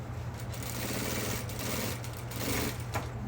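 A sewing machine stitches a bubu dress seam in a continuous close whir with a rapid mechanical needle rhythm throughout.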